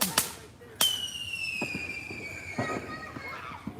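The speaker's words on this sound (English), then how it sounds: "there are so many fireworks going on in this neighborhood right now" Fireworks burst around a neighborhood in El Salvador late on Christmas Eve: sharp cracks and pops at varying distances, one with a long descending whistle, scattered irregularly over the whole stretch.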